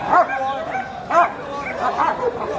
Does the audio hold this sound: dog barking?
yes